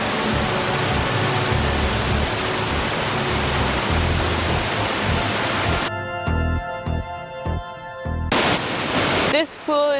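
A waterfall pours steadily into a pool, a loud, broad rushing wash for about six seconds, then gives way to an abrupt switch to other sounds.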